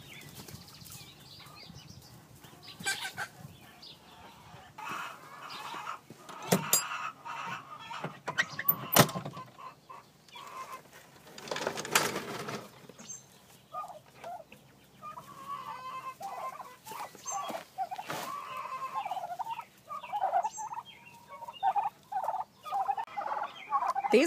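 Backyard chickens cluck and squawk in bursts over a long stretch, some calls close and loud, others softer, with scattered higher chirps mixed in.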